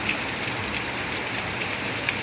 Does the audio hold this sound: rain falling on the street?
yes